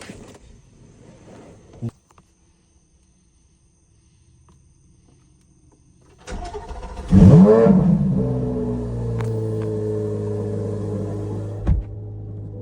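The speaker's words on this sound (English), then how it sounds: "The cold start of this car is crazy." A car engine cold-starts in a garage, cranking briefly and then catching into a loud roar that settles into a steady, high fast idle with a strong low hum, after a quiet stretch.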